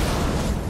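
A rocket shot bursts in the shooter game Iron Horse, a brief loud, broadband explosive rumble that stays dense and heavy over its short span.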